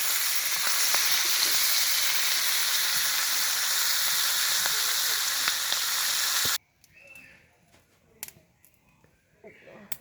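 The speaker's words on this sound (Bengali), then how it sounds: "মাছটা সুন্দর করে একটু বেশি করে ভাজি করে নিলি পরা বোনাটা অনেক স্বাদ হয়" Pangas fish frying in a pan fills the first six and a half seconds with a loud, dense sizzle. The sizzle then cuts out, leaving faint clinks and scattered small sounds.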